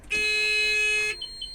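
A single loud, steady electronic beep from the cab warning of a Sumitomo SH130-7 excavator lasts about a second, high-pitched and harsh, followed by quieter faint tones.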